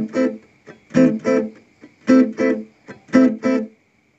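Reggae-style guitar chords are strummed with the fretting hand pressing then releasing, giving short choppy chord stabs in a repeating pairs-based rhythm, each cut off sharply into silence, close and clear.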